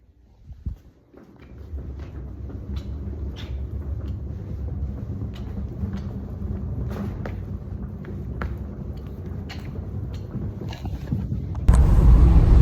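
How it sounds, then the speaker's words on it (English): Steady low rumble of a packed U-Haul moving truck on the road, heard from inside the cab, continuous with a few soft thumps and a louder burst of wind or engine noise near the end; no talking. "we back in the U-Haul truck, it's all packed up"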